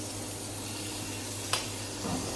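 Butter sizzles and crackles in a frying pan under a grilled cheese sandwich, a dense steady hiss close by, with one brief clink partway through.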